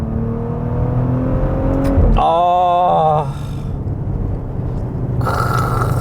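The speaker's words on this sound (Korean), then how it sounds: "다운시프트 소리도 너무 좋죠" A 2.2-ton Maserati Levante F Tributo SUV engine pulls hard under acceleration, with a loud, rising engine note, a brief sharp blip and a drop in pitch on the downshift, then resumes over steady road and wind noise from inside the cabin.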